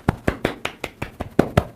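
Hands pat briskly against the body in a quick, even run of about ten soft slaps, close and alone.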